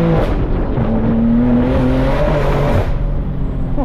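BMW M2 engine revving, a loud, sustained rising engine note that climbs in pitch over a few seconds, then drops back and settles, close to the car.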